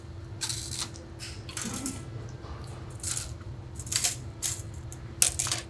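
Bass strings are loosened with a string winder on a bass with a Sadowsky quick-release bridge, giving a run of small clicks, ticks and scrapes, some in quick bursts and some spaced out, close and fairly quiet over a low steady hum.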